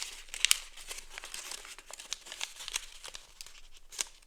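Paper is folded and flattened for an origami crane, giving close, faint crinkles and crisp creasing crackles with a few sharper snaps near the start, and no talk.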